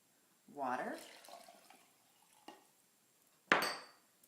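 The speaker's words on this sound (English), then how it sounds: "Then we are going to add water," Water is poured into a container while an avocado lime dressing is made, starting as a rising gurgling splash, then trickling and tapering off, followed by a sharp clink of dishware near the end.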